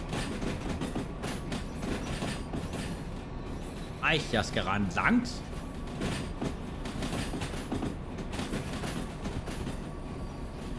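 A long freight train of 25 wagons weighing 1000 tons, pulled by a locomotive in Derail Valley, rumbles steadily with rolling clatter beneath someone speaking briefly over it.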